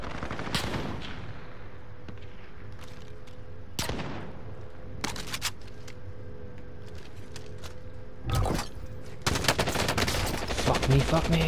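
Gunfire in Call of Duty Warzone on Rebirth Island, with single shots and rapid automatic bursts crackling over a constant game background drone, growing denser near the end.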